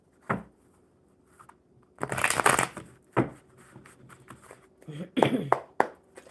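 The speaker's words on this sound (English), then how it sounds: "No, one more good shuffle." A deck of cards is shuffled by hand during a live coffee-and-cards session, with several short, crisp riffling bursts close to the mic and a voice talking quietly between them.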